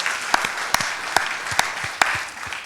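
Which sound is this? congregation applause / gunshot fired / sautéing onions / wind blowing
congregation applause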